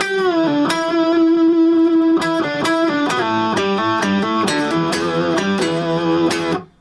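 A distorted electric guitar plays a solo, a melodic line with sustained bent notes and quick picked phrases, loud and continuous until it cuts off.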